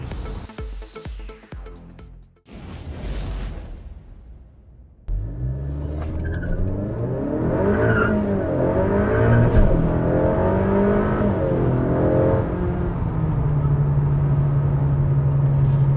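A Honda Civic Type R FK8 with a hybrid turbo and E30 ethanol tune idles roughly and blips, then after a short burst of noise settles into a loud, sustained engine drone that climbs slightly and holds.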